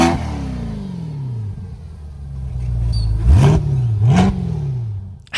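A 2020 Corvette Stingray C8 with a naturally aspirated engine, heard up close as it revs: a falling idle note, then two sharp throttle blips that rise and drop back, loud and clear with no talking.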